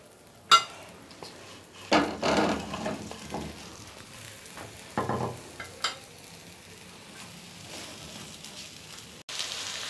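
Apple pieces sizzle in melted butter in a pan over low heat, a soft steady crackle broken by several louder bursts of stirring and scraping, with no talking.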